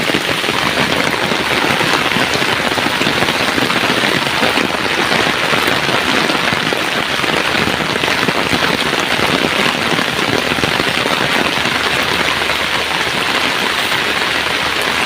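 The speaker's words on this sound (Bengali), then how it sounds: "সকাল সকাল বৃষ্টি দেখে ভালো লাগলো।" Heavy morning rain pours down steadily around someone walking under an umbrella outdoors, a loud, dense, continuous hiss with no pauses.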